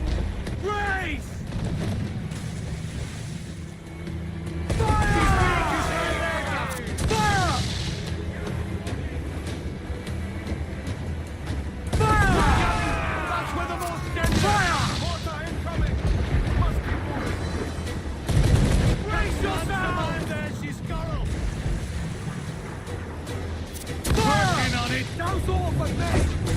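Ship cannons firing in a naval battle in Assassin's Creed IV: Black Flag, loud booming blasts mixed with crew shouts and orders, over a constant roar of sea and wind.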